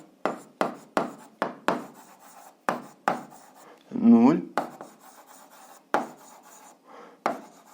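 An answer is written out by hand for an eighth-grade algebra exercise, making a series of short, crisp scratchy strokes in irregular bursts, close and fairly loud, with a brief vocal sound partway through.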